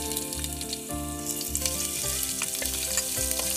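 Finely chopped ginger sizzles loudly in hot coconut oil with popped mustard seeds, a steady close crackle running unbroken throughout.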